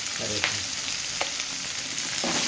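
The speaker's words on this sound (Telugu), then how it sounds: "మిరియాలు వేసుకున్నాక ఉల్లిగడ్డ దూరంగా వేసుకోవాలండి. కరివేపాకు" Pepper, onion and curry leaves fry in hot oil with a steady, close, crackling sizzle, and several quick stirring scrapes stand out over it.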